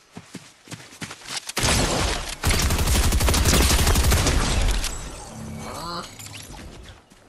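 Gunfire in the Fortnite video game on PS5: a few sharp separate shots, then a loud, sustained burst of rapid fire that tails off into scattered cracks and debris clatter.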